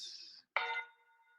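A struck gong rings out with a bright, shimmering tone. A fresh strike midway brings a sharp attack, followed by a long, sustained hum that slowly fades.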